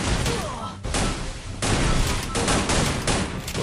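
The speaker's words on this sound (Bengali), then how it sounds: "এই গ্রেনেড গুলো মারছে" Grenade explosions and rapid gunfire from a video game form a dense, loud, continuous barrage of blasts and shots, with brief dips between bursts.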